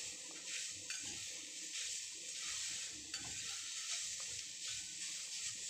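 Grated beetroot and carrot fry lightly in a pan, a faint hiss with soft, irregular stirring scrapes and clicks throughout.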